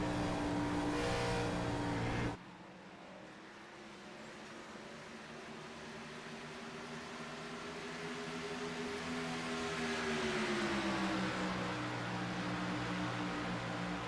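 Stock cars racing at Homestead in a racing video game: a steady, close engine drone that drops suddenly early on, then builds again with a slowly rising and bending pitch, with no talk over it.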